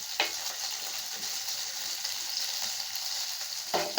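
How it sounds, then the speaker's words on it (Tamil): Curry leaves and coriander sautéing in hot oil for vendakkai puli koju, a steady bright sizzle filling the whole clip at close range, with faint stirring scrapes near the start and end. "இதை நல்லா வணக்கி விடலாங்க"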